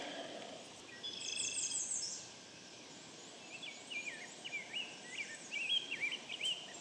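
Spring birdsong rings out outdoors, with scattered chirps and short warbled phrases over a soft, quiet background. The calls come and go without a steady rhythm.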